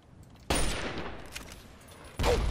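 Gunfire in the video game Fallout 3, two loud blasts with a lingering rumbling tail between them, no talking.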